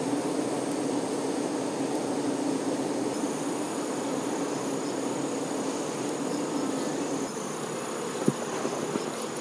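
Honeybees crowd together building their hive, a dense steady buzzing hum filling the whole stretch at even loudness, with one brief sharp tick near the end.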